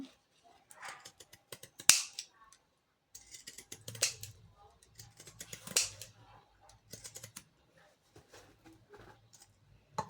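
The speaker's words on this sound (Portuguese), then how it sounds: "esta a tesoura" Scissors snip through fabric while sewing a hygiene pouch, sharp close clicks in irregular bursts with short pauses, quiet overall, with a faint low hum in the background.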